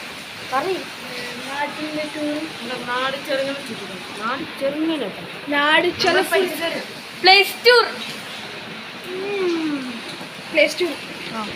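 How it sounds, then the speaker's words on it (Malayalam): Steady heavy rain hisses in the background throughout while a person talks over it. "ഫുള്ളും മഴയാണ് ഇവിടെ"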